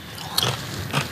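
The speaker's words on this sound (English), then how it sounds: "how crunchy are those tortillas? They are so crisp." A crunchy tortilla chip bitten and chewed with artichoke spinach dip, two crisp crunches about half a second apart, close and fairly faint with no talking.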